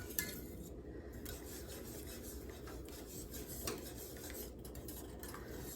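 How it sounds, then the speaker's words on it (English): A utensil scrapes and rubs around a pan of thickening gravy in a home kitchen, a soft, steady stirring rasp with occasional light metallic clinks, close and fairly quiet, with no talk. "I'm just stirring gravy."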